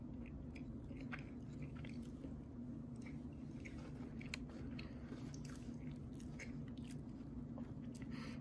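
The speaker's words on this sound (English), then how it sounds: "I'm now recording myself taking a bite of the McChicken biscuit." Someone bites into and chews a McDonald's McChicken biscuit close to the mic, with soft crunching and squishy chewing throughout over a steady low background hum.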